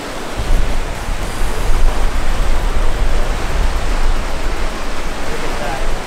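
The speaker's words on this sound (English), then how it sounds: "It's so windy right here, and I don't know if you can hear me." Strong wind roars steadily at a coastal lookout above the water, a loud, broadband rush that buffets close to the microphone throughout.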